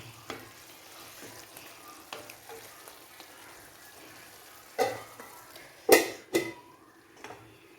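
Chicken pieces frying in sunflower oil give a low, steady sizzle with occasional stirring scrapes and a few louder pan clatters near the end.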